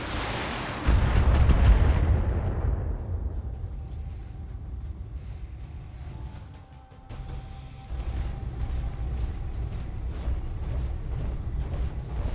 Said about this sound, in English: I didn't expect the turrets to explode when that went down